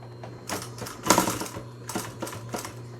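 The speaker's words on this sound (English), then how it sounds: "I sew a 1/4 inch seam on all my masks, 1/4 inch." A sewing machine stitches a quarter-inch seam on a fabric mask in short bursts of rapid mechanical whirring separated by brief pauses, close and fairly quiet.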